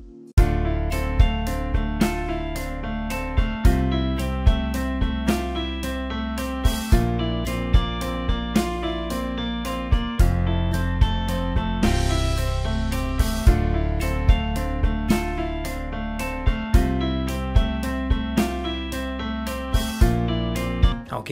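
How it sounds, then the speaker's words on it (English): A simple unprocessed loop of drums, bass, piano and guitar with no effects or EQ, playing steadily with regular drum hits over sustained bass and chords, loud and upfront with no talking. "I've created a very simple loop with just some drums, bass, piano, and a guitar."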